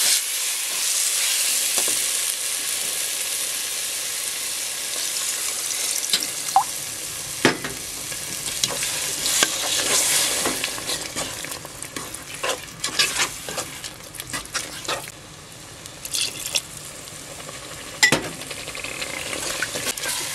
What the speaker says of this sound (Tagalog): Habang patuloy natin hinahalo.